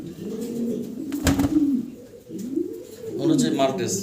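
Fancy pigeons coo nearby in soft, throaty bursts, with a brief clatter and some faint human murmuring in the background.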